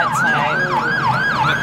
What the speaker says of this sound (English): Whoa, we got an ambulance coming.